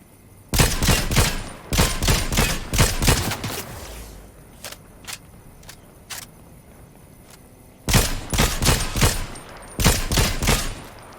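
Bursts of rapid automatic gunfire in a video game, loud and close, aimed at a vehicle tire, with a few single shots in a quieter middle stretch before more sustained volleys.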